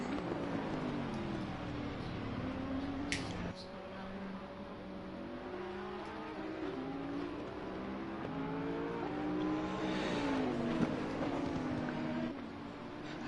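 Race cars including a GT3 Porsche lapping Snetterton circuit, engines droning and shifting pitch as they pass, moderately distant and fairly quiet, with steady rumble throughout.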